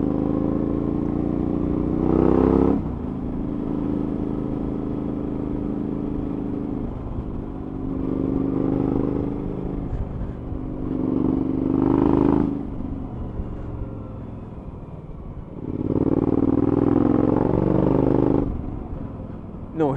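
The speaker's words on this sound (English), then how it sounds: "Noisy old farty bike leaves in the road." Suzuki V-Strom 1000 motorcycle engine drones steadily while riding along a road, with several swells of louder revving as the rider accelerates, over a constant low rumble and wind.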